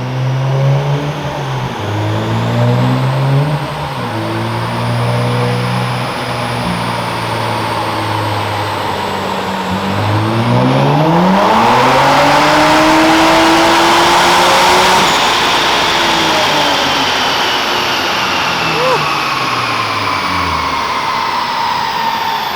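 Car engine revving hard with boost turned all the way up, rising and falling through several long pulls, loud and close. A turbo-like whine rises over the roar, with no talking.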